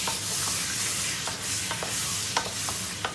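Zucchini masala being stirred in a pan, with a steady soft sizzle and a series of light scraping strokes spread through the clip, no voices.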